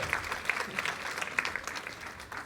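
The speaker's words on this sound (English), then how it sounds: "Let's give them a big round of applause." A modest audience at a panel conversation event claps with scattered, distinct hand claps forming light, uneven applause at moderate distance.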